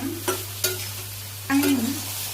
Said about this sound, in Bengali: সোয়াবিনগুলো ছেড়ে দিই, তারপরে ভাজি করে নামানো